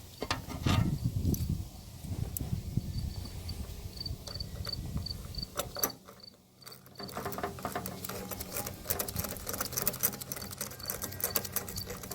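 Rapid, steady scratching and scrubbing on the rear wheel hub surface of a Mazda 3 while it is cleaned during a brake and hub bearing job. It is close and continuous, with a brief lull partway through.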